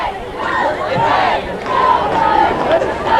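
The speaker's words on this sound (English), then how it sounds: "Good crowd here for the Hornets, and the Saranac with a noisy crowd as well" Noisy crowd of fans at a high school football game between Plattsburgh and Saranac, a steady roar of cheering and shouting voices swelling in waves throughout, fairly loud and continuous.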